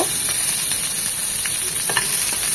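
Potato pieces frying in hot oil in a pan, a loud, continuous close-up sizzle with a few faint crackles and pops and no talking.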